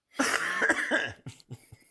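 A person coughs in a quick burst of several hard coughs, then a few smaller trailing coughs and throat sounds, close and loud with no talk over them.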